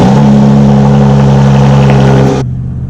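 Toyota Tundra pickup fitted with a TRD exhaust and cold air intake revs loudly and close, holding a steady droning engine note before dropping sharply back toward idle near the end.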